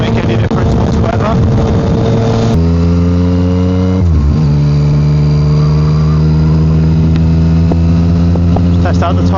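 A Yamaha MT-09 motorcycle fitted with a Black Widow exhaust, loud and close, its engine note climbing, then dropping and settling into a steady drone.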